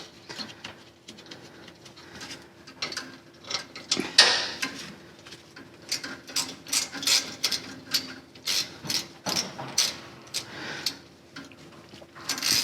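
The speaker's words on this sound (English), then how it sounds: "I like this ratchet though. It's like one of those super fine tooth ones." A super fine-tooth ratchet clicks in repeated quick bursts, close and crisp, during work on sway bar links and bushings of a 100 Series Land Cruiser.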